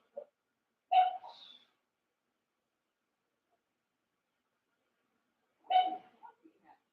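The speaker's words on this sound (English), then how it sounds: "She's barking at no one." A dog gives a few short, muffled barks in two brief bursts separated by silence, fairly faint and distant.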